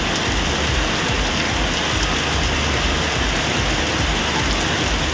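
Heavy rain pours down in Arani, Tiruvannamalai district, in a loud, dense, unbroken hiss of drops hitting the ground, with no talk over it.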